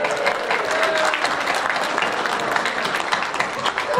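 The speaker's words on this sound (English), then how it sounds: "Give them a big clap." A school assembly crowd of children claps steadily and loudly for about four seconds, the applause dense and sustained throughout with no clear pause.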